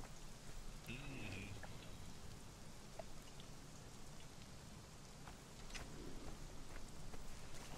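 Rainforest rain in the game Conan Exiles, a steady hiss of falling rain and droplets, with brief faint tones and soft voices in the background.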